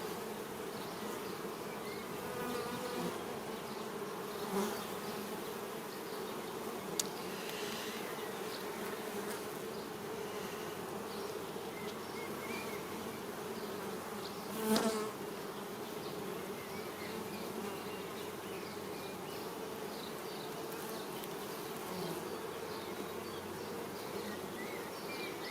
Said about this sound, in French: Donc ici, beaucoup d'abeilles sont nées.